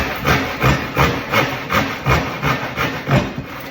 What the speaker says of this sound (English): now we need to just bring in a handsaw and just run it in these lines and just clean it up